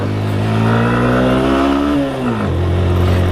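A motorcycle on a Himalayan road in Nepal revs hard in first gear, loud and close, the engine pitch climbing steadily before dropping sharply as the throttle is released, then settling to a lower hum.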